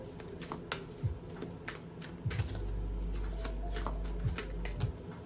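Oracle of the Unicorn cards being shuffled by hand, close riffling flutters and soft taps, with a sustained run of card shuffling in the middle and a few separate snaps.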